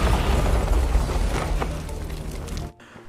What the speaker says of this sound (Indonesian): Maggie menghadapi para anak buah Hansen dengan meledakkan diri pada saat itu.